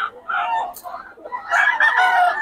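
Roosters and chickens at a poultry market in Bocaue crow and cluck close by, with short calls building into a longer, strained crow, while people talk in the background.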